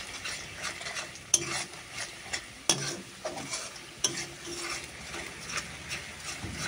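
Spice paste being stirred and fried in hot oil in a pan, a masala base for a fish dish, makes rhythmic close scraping strokes with a few sharp utensil clicks over a steady low sizzle. No one speaks.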